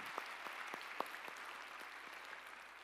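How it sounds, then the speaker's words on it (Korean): Church congregation clapping during a Sunday worship service: scattered, fairly soft hand claps with a few sharper distinct claps over a steady hall ambience, continuous throughout. "우리 찬양을 받으실 주님께 영광의 박수 올리시겠습니다"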